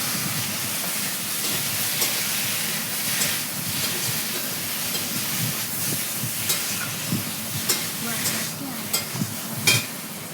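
Potatoes fried with ground spice paste and stirred in a pan, giving a steady close sizzle with scraping stir strokes and small clatters throughout, no voices.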